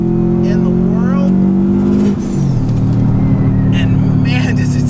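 Boosted Subaru WRX engine under load, a strong steady drone with rising whine as the turbo spools, a shift near the middle then pulling again, loud and close throughout with no talk.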